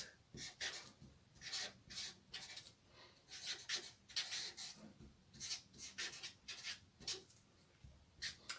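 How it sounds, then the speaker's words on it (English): Handwritten numbers going onto a surface come through as a series of short scratchy rubbing strokes in irregular bursts, close and soft, with pauses between groups of strokes and no talking. "I'll write that, it'll take me a while."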